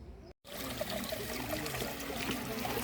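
Water trickles softly and continuously into a wishing pool inside a quiet grotto, a gentle, close, faint dribbling that follows a brief moment of silence.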